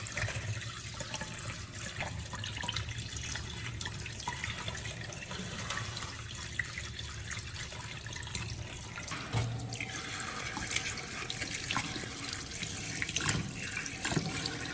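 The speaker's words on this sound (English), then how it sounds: "Then rinse the shells once or twice more with clean water to ensure they are completely sanitary." Eggshells are rinsed under a running kitchen tap, a steady, close hiss and splash of water into a sink that holds evenly for the whole stretch with no voices.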